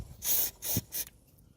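Compressed air blown through the camshaft of an Opel Vectra A, cleared of oil to cure valve tapping: three short, bright hissing blasts in quick succession, close by, with quieter hiss between them.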